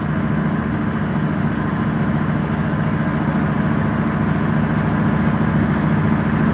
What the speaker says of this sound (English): It's always nice to hear these V8 engines just purr along in the field.